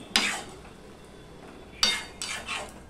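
A spatula stirs a thick okra curry made with ground rice paste in a wok, giving a few distinct scraping clatters near the start and again later, each brief and close, with quiet pauses between.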